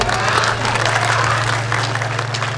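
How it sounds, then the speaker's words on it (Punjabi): A live audience applauds at a Punjabi music show in Greece, dense steady clapping filling the hall throughout without a break, with a low sustained hum underneath. "ਤਾਲੀਆਂ ਤਾੜ ਦਿਓ।"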